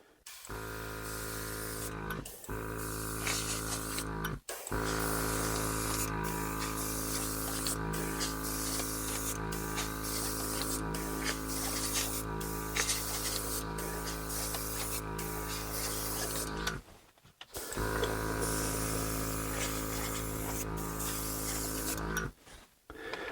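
Steady airbrush hiss with a humming compressor underneath, running continuously with a few brief stops and restarts.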